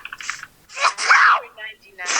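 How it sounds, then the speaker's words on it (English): A single sharp sneeze bursts out close by, preceded and followed by brief voiced sounds, with a faint squeaky tail at the end. "Oh my god, who is that that keeps sneezing?"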